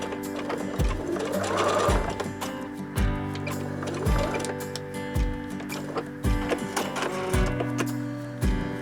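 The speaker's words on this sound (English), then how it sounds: "Alright, I've come to the last seam. I'm going to backstitch a little bit." A sewing machine backstitches the final seam of a fabric bowl cozy made with precut batting, running in short close bursts separated by brief pauses and clunks, fairly loud and near with no talking.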